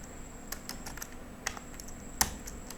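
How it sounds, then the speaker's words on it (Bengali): Keys clack on a computer keyboard as a Ctrl+Shift+Enter shortcut is typed, a short run of light, crisp taps at uneven intervals, close and fairly quiet with one sharper press near the end. "কন্ট্রোল শিফট এন্টার দিয়ে দিচ্ছি।"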